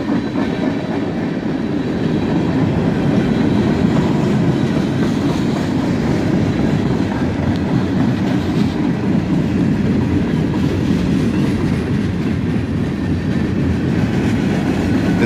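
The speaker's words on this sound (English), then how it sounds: "GP38-2, a GP42, and then a GP38 leave this train into the siding here in Trenton." A CSX freight train led by GP38-2, GP42 and GP38 locomotives rolls past near a siding in Trenton, a steady loud rumble with clickety-clack of wheels on rail throughout, no voices.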